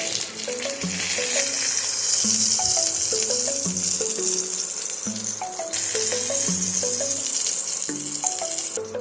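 Koi fish (climbing perch) frying in oil, a loud continuous sizzling hiss heard under a melodic tune of plucked notes.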